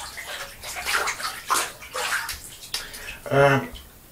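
Water runs and splashes during rinsing in a bathtub, a soft intermittent gush under someone talking, with a louder pour near the end.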